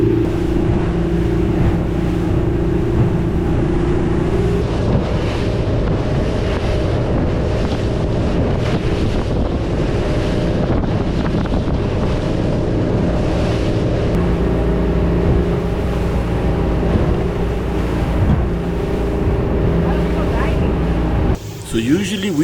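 A boat pounds through choppy surf at sea: a constant loud roar of engine, rushing water and wind buffeting the microphone, with no break in the noise until a brief change near the end.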